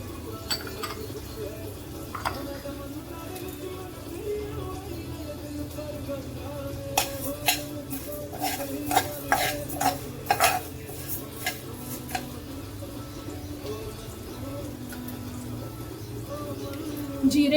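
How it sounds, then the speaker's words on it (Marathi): Coriander seeds dry-roasting in a pan while being stirred, heard as soft scraping and clinking of a utensil against metal, with a cluster of sharper taps in the middle; quiet and close, with a voice faintly audible. "धने भाजून घेऊया."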